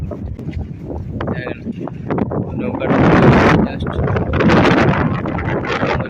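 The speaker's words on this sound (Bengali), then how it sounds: "এখানে হাওয়া হচ্ছে মানে কথার আওয়াজ শোনা যাচ্ছে না" Gusts of wind buffet the microphone in loud rumbling bursts during a local train journey, swelling midway, while a person speaks briefly underneath.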